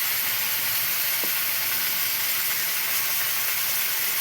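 Fish sizzles steadily in hot oil, a constant broadband hiss with no talking.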